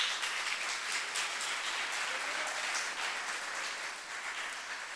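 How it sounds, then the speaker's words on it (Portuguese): Church congregation applauding in praise, a steady wash of many hands clapping at moderate distance, filling the space with no voices on top. "Pode aplaudir o Senhor pela vida dessa jovem."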